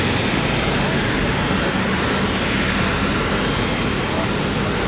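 A steady, loud roar of a large airliner's engines fills the air continuously as it comes in to land at an airport.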